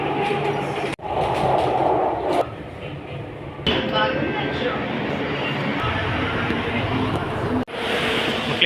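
Steady rumble of a Chennai metro train in motion, heard from a passenger's ride, with a broad rolling roar and brief dips as the car rattles along, close and continuous.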